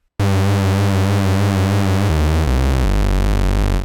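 An Octave CAT analog synthesizer with 100% pulse width modulation plays a loud buzzy tone with a wobbling, sweeping timbre, stepping down through a few sustained notes with no talk.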